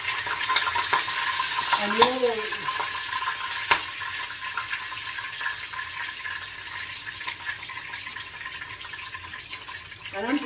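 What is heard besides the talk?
Vienna sausages frying and spattering in a hot pan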